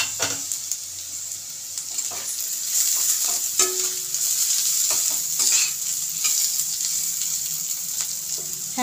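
Vegetables for fried rice sizzle and crackle in a hot pan as they are stir-fried, with scraping spatula strokes and occasional clinks over a steady, close frying hiss.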